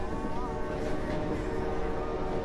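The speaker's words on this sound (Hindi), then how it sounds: "रेलगाड़ी के पूंगा" A train rumbles along steadily with a faint horn-like tone riding over the clatter, fairly quiet and continuous throughout with no voices.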